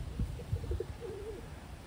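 Pigeons coo softly in a short, faint burst of low, rolling calls over a quiet background.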